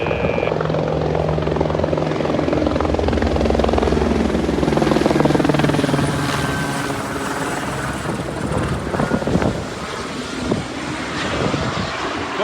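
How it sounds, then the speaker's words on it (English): Loud, close helicopter near Skagway, Alaska, with heavy rotor thumping and engine whine, sustained throughout with wind buffeting the microphone. "Helicopter"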